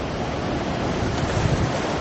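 Ocean waves surge and wash continuously over a gray submarine as it dives beneath the surface, a steady broadband roar with wind noise and no distinct breaks.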